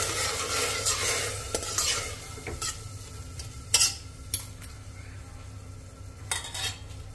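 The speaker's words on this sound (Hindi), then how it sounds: "चावलों को हमें चला लेना है 1 मिनट के लिए, इस तरह से भून लेना है चलाकर।" Soaked rice being stirred and roasted in a pan for a sweet Sindhi tahiri, with steady scraping and sizzling strokes and a few sharper clinks of the spoon against the pan, heard alone without talk.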